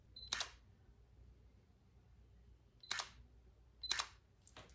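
Three crisp mechanical shutter clicks from a camera, close and distinct, spaced irregularly over a quiet room, the last followed by a faint extra click.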